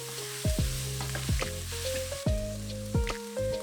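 Chopped and blended tomatoes fry in a pan for burrito filling, a loud steady sizzle broken by repeated scraping strokes of stirring, close up and without speech.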